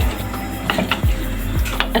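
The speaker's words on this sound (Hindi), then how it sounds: "अच्छे से इसको मिक्स करना है कि ये सारा मसाला चिकन के साथ मिक्स हो जाए" Green masala chicken stirred in a pan with a spoon, a few quick scraping clinks and knocks against the metal over a low steady hum.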